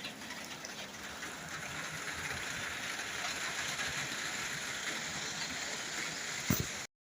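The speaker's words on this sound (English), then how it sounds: "It's drizzling." Light drizzle falls outdoors as a steady, even wash of soft hiss that holds for the whole stretch, with one brief knock near the end before it cuts off.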